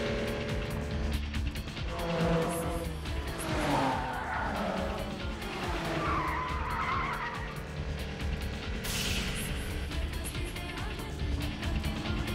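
A car skids with tires squealing on a night expressway, sustained screeching swells and fades over a constant loud engine roar, with a sharper burst late on.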